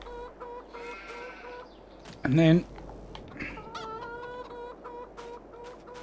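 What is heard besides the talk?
chickens clucking in Farming Simulator 22 video game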